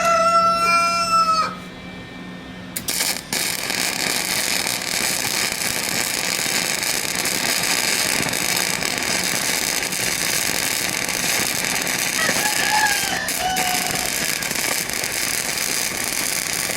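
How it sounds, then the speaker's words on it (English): Birds screech and crow loudly in a short burst at the start, then a harsh, steady broadband roar dominates while faint bird calls occasionally break through in the background. "Damn screamy birds."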